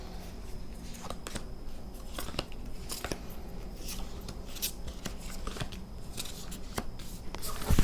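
Tarot cards are shuffled and picked out, giving a steady run of soft papery rustles and sharp little snaps and clicks, close-up and fairly quiet, ending with a louder burst of handling.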